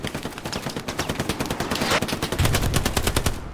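Hell Let Loose machine gun fire, rapid bursts of close, loud automatic shots rattling in a steady hammering rhythm throughout, with no voices over it.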